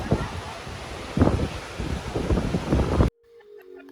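Strong wind at the ocean shore on Tenerife buffets loudly in gusty, low rumbling surges mixed with surf noise for about three seconds, then drops abruptly to near quiet.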